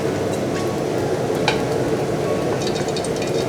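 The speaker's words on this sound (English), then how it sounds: "We fry the shallot first" Shallots frying in hot oil in a pan for a Thai tamarind sauce, a loud, continuous crackling sizzle with occasional stirring scrapes, close up and without talk.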